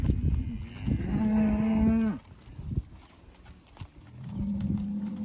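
A suckler bullock bellows in a field: one long, loud, close call that rises and then falls away, a short quiet gap, then a second bellow that begins near the end.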